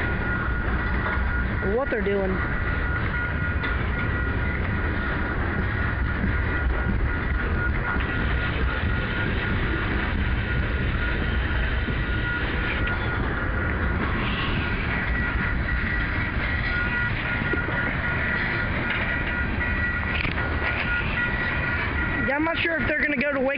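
Wheeling & Lake Erie freight train with covered hopper cars rolling past near Jewett, Ohio, a continuous heavy rumble with rail squeals, under a voice talking.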